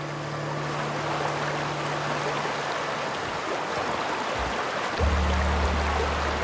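Steady rushing water from a waterfall in the sci-fi game The Outer Worlds, a continuous broadband wash with a low droning hum underneath that shifts near the end.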